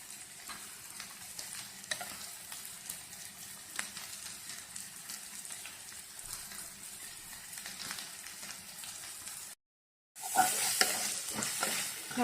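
Chopped cashew nuts frying in oil in a pan while being stirred for fish molee, giving a steady close sizzle with frequent scraping and stirring clicks and a brief gap of silence near the end.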